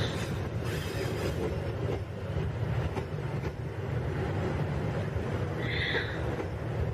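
Train carriage rolling along rails with steady low rumble and continuous clatter, a brief high wheel squeal near the end, heard from inside the car with no talking.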